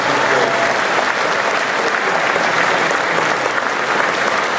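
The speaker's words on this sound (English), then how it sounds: "give them a round of applause" Loud, dense applause fills a hall at the Star Wars Celebration 2017 panel for Star Wars Rebels, a steady roar of many hands clapping at once with no voices above it.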